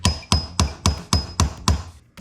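A hammer repeatedly strikes a metal punch set on a carburetor screw, seven sharp, evenly spaced metallic hits close up with a ringing tone after each blow.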